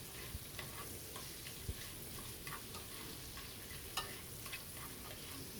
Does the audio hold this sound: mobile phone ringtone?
no